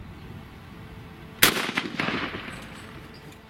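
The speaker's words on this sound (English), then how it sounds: "both bullets left the barrel at the exact same speed" A rifle double load fired outdoors at a shooting range, both bullets leaving the barrel together, gives one sharp, loud report followed by a rolling echo tail that fades over about two seconds.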